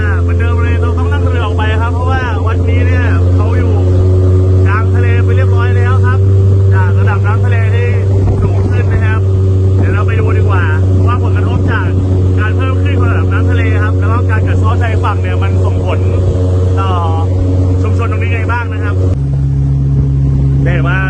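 A motorboat engine drones loud and steady throughout a trip along a mudflat coast in the Gulf of Thailand, its pitch shifting near the end, with someone talking continuously over it.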